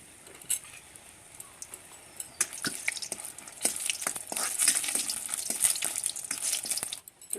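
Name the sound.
frying bori (lentil dumplings) in hot oil in a wok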